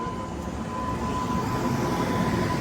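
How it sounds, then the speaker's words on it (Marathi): A passenger train rolls past near Dativali station, a loud, steady rumble that holds without a break throughout. "इथं ट्रेन येते"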